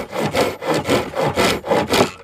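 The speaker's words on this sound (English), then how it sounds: "those teeth are really aggressive, so it's just bouncing across the top and rattling it. But it's taking chunks out." An ultralight bushcraft saw with aggressive teeth cuts dry wood in steady back-and-forth strokes, about five rasping pulls with a slight rattle, close and alone.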